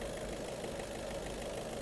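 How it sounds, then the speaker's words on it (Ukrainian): A 2019 Skoda Octavia A7 Laurin & Klement engine idles smoothly, a steady, even hum with a dense low rumble that holds constant throughout, heard close with no talking. "Мотор, двигун працює рівненько."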